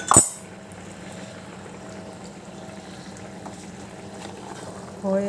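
Potatoes boiling in a covered pan as the lid is lifted, a short clatter at the start, then a quiet steady bubbling simmer with faint clinks, and another brief knock near the end.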